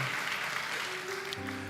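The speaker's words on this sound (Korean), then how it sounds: "우리 큰 박수로 축복하겠습니다" A church congregation at a Sunday worship service gives a soft, steady round of applause to welcome home a returning Dominican Republic outreach team, with a faint sustained musical tone underneath.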